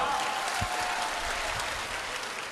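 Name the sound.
audience clapping loudly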